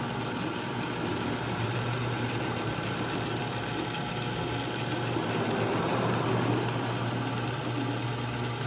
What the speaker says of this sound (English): So this is running with our treadmill motor at a grand speed of 1.